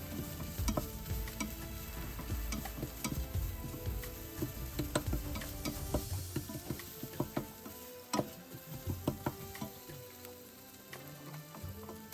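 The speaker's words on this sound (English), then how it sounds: "Now add 1/4 teaspoon of turmeric powder and 1/4 teaspoon of Kashmiri chilli powder. Saute it well." Turmeric and Kashmiri chilli powder saute in a pan for a chicken biryani masala, a continuous sizzle mixed with repeated scraping stir strokes and clinks, fairly close, rising and falling in short bursts.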